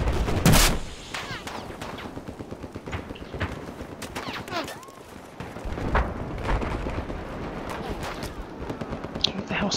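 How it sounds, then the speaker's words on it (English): Gunfire in Battlefield 4 on the flooded city Conquest map, rapid bursts and scattered shots with explosions amid constant battle noise, loud near shots over a busy background. "Who the hell's firing at me?"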